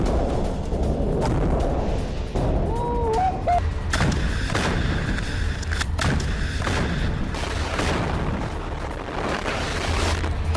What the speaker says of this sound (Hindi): हमास ने आईडीएफ का टैंक उड़ा दिया।